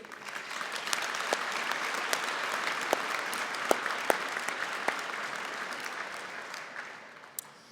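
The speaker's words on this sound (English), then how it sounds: "I think that calls for a round of applause" Applause rises from the crowd at a SAIT spring convocation ceremony as graduates cross the stage. Dense, even clapping stays soft and somewhat distant, with a few sharper claps standing out before it fades at the close.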